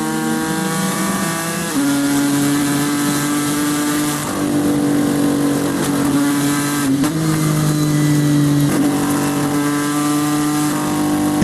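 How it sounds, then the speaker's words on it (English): Racing car engines roar steadily through a live endurance race broadcast featuring Ford and Porsche prototypes, with sustained loud tonal drones and pitch shifts as cars pass and change gear, no talk. "fastest laps are going in for Dixon now in the other Ford, the 69"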